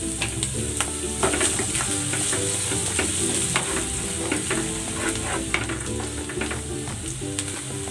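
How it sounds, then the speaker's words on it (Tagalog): Garlic and onion sauté in a hot pan, a loud continuous sizzle broken by frequent clicks and scrapes of a stirring utensil throughout. "Igigisa ko na tong bawang. At ang sibuyas."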